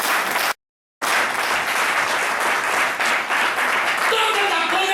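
A church congregation applauds loudly and continuously, broken by one short cut of silence, with some voices rising near the end.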